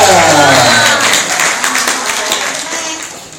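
Loud clapping from the congregation at an Islamic religious gathering, a burst of many hands that gradually tapers off, with a voice briefly audible over it.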